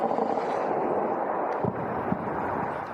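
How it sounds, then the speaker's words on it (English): Distant explosions near Tehran in news footage, heard as rumbling low booms under a wash of wind and rough background noise, with a couple of duller thuds in the second half. "Several powerful explosions have been heard near Tehran"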